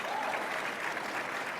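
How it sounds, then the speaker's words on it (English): A large conference audience applauds in a dense, even wash of clapping that holds steady and slightly distant for the whole stretch. "Give yourself a round of applause, Yaffers"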